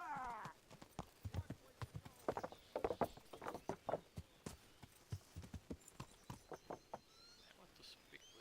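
Steady clip-clop of horse hooves at a walking pace in the video game Kingdom Come: Deliverance, fairly quiet, with a short whinny at the start and faint birdsong in the background.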